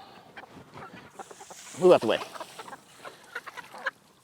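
Farm chickens cluck and squawk close by, with one louder burst of calls in the middle, while a person speaks briefly over them.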